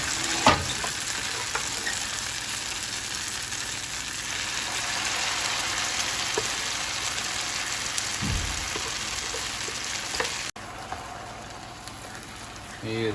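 Mustard greens dropped into hot oil with browned garlic and ginger, giving a loud, steady frying sizzle with stirring clatter that runs throughout, with a brief dip near the end.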